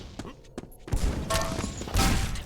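Super shotgun blasts in a fast Quake-style duel match, a couple of sharp booming shots followed by dense, noisy gunfire and impacts, with a commentator's voice running over the action.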